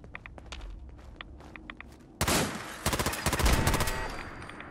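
An automated turret opens fire in a post-apocalyptic shooter game, with a quiet stretch of scattered footsteps and clicks, then sudden loud bursts of rapid gunfire that sound close and continue in several volleys to the end.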